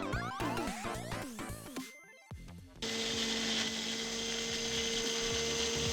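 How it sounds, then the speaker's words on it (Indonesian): A blender whirs loudly and steadily for several seconds, blending chicken dim sum filling, after a brief clatter and a short pause, the motor's hum holding at a constant pitch. "Oke, kita langsung blender aja."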